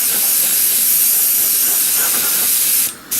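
Spray primer hisses out of a can in one loud, continuous blast onto a model, the jet cutting off briefly near the end before starting again.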